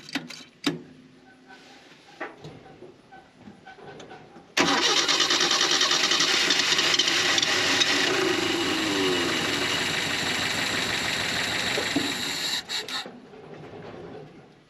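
A 1971 Datsun 521 pickup with leaking fuel lines cranks briefly with a few scattered clicks, then catches at once into a loud, steady engine run that holds for about eight seconds before cutting back to quieter running.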